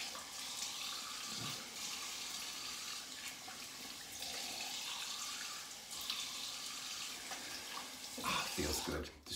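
Water running from a tap into a sink while rinsing after a shave, a steady hissing stream with splashes and a few clunks near the end, fairly close, with a voice speaking over it.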